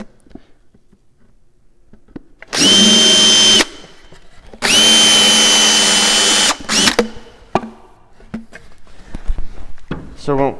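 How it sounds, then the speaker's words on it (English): A power drill with a countersink bit bores into screw holes in wooden drawer parts for an end table. Two close, loud whirring bursts of about one and two seconds are followed by light clatter. "take a countersink and countersink those holes so that my screw sits even with my wood"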